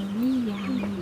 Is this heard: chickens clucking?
yes